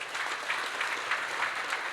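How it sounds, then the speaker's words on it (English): A round of applause from the audience at a State of the City 2023 event, continuous and moderately loud for the whole short stretch. "Let's give him a round of applause."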